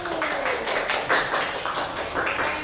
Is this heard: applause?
yes